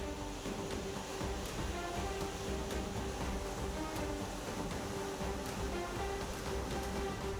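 The Kovai Courtallam waterfall near Coimbatore pours with increased flow after rain. It makes a steady, full rushing roar of falling water, continuous and unbroken, with no voices.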